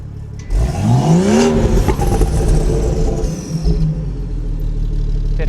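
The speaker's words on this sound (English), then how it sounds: "Oh, you're gonna rev it." A manual BMW 340i with a catless 6-inch downpipe and stock exhaust revs hard, the loud engine note climbing steeply then holding a sustained roar, close and dominant throughout.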